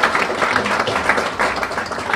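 An audience at a folklife apprenticeship arts presentation gives a round of applause, steady dense clapping from many people throughout, fairly loud and close.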